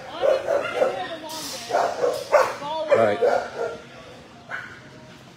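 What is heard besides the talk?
dogs barking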